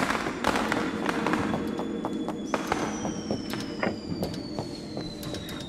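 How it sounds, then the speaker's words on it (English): Rapid pops, crackles and sharp bangs of video game fireworks come in quick bursts, with a rising whistle running through the middle. "Stop activating fireworks."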